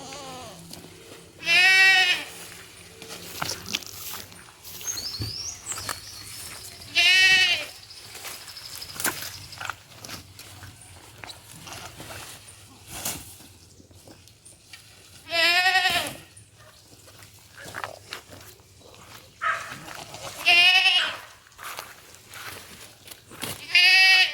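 Goats on a farm in Saint Elizabeth, Jamaica, give several loud, drawn-out bleats spaced several seconds apart, heard close over a steady background of rustling and movement.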